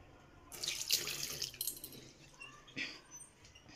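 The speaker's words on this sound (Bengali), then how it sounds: "হাতটা ধুয়ে নিই।" Tap water runs while hands are washed at a sink, a close splashing flow with a couple of louder gushes and drips over a few seconds.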